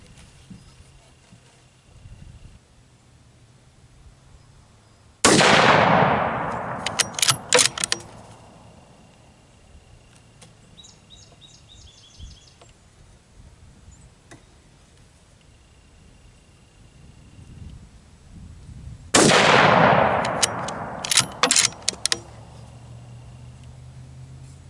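Two loud rifle shots from a 100-yard group test, about fourteen seconds apart, each a sharp blast with a long decaying ring and a few quick clatters just after; no talking.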